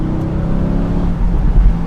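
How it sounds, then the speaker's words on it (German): Mercedes-AMG GT Roadster in Sport Plus mode, a loud, steady engine and exhaust drone heard from close by, with low crackling bursts near the end as the throttle is blipped. "dann merkt man auch dieses Zwischengas, dieses Knattern, was eben diese Fahrfreude bereitet"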